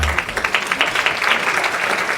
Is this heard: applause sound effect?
yes